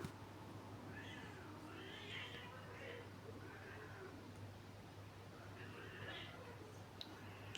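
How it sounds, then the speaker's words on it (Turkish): A cat meows repeatedly in the distance, faint cries over a low electrical hum. "dışarıda şu an kedi vs'si var"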